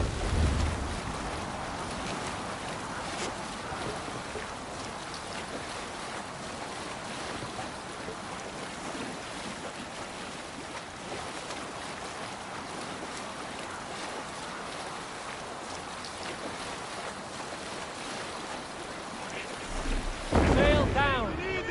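A sailing ship crosses open water in Assassin's Creed Valhalla, with a steady wash of wind and waves rushing past the hull for the whole stretch, ending in a brief louder splash and creak.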